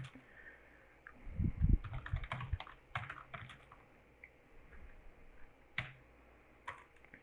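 Computer keyboard typing, a quiet burst of irregular key clicks with a few louder taps and pauses, close and alone with no talking.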